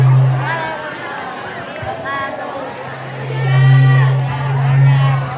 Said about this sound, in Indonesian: Tepuk tangan buat paslon nomor 1